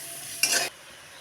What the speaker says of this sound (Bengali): এটাকে একটু কষিয়ে নেব, নাড়াচাড়া করে নিয়ে এর মধ্যে একটু আমি টমেটো দিয়ে দেবো।